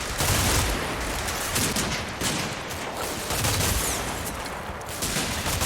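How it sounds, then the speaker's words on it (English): German MG-34 machine guns firing in the wargame Combat Mission: Fortress Italy, dense overlapping bursts of automatic fire at steady loudness, sustained throughout with no talk. "the German submachine guns, MG-34s, make mincemeat of my advance"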